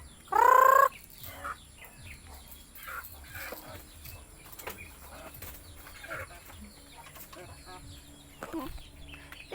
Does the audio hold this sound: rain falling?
no